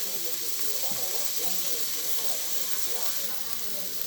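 Seasoned, drained cooked ground beef dumped into a hot sauté pan for bean and beef chili, giving a broad continuous sizzle with scattered soft scraping and clatter, close and fairly loud.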